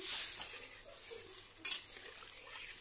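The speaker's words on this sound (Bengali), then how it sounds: "তো ভালো করে এবার নেড়ে নিচ্ছি।" Fish curry with potatoes being stirred in a pan, soft scraping and faint simmering with one sharper clink of the utensil against the metal, fairly quiet and close.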